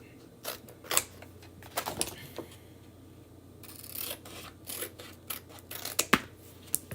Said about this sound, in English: I'm just going to cut out the home sweet home part.